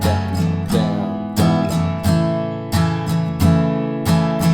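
The chords of a song are strummed on a guitar, each chord taking a down, down, up pattern. Repeated crisp strokes sound close and steady, with no talking.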